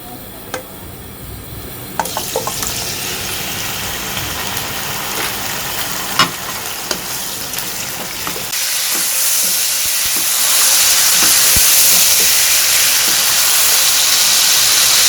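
Chicken pieces fry in oil left from browning onions, a steady sizzle with occasional spoon knocks and stirring scrapes, growing louder and more intense toward the end.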